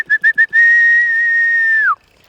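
A person whistles three quick short notes, then one long steady tone that bends downward at the end; clear and close, with no talking.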